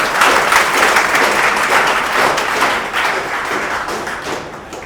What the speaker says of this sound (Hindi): आप सभी अपने लेवल पर अगर कैफ को तालियां बजाकर सम्मानित करेंगे